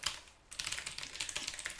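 Rapid, light clicking of a computer keyboard being typed on during coding work, a quick irregular patter of keystrokes close by after a brief pause, quiet and with no speech.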